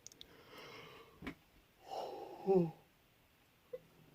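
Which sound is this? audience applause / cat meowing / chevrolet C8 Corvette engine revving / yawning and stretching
yawning and stretching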